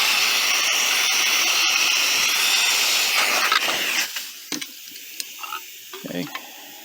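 Gas hisses steadily as a propane tank is refilled, then cuts off about two-thirds of the way through, leaving a few quiet clicks and knocks from handling the fittings.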